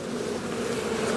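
Steady, close buzzing of many bees at an Australian backyard hive, a continuous drone with no voices over it. The colony had been weak before winter.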